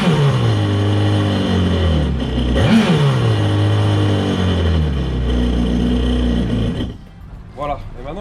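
A Kawasaki STX-15F jet ski engine runs out of the water during winterizing to drain water from its cooling system: a loud, steady idle hum with one sharp rev, then the engine is cut, leaving faint clunks.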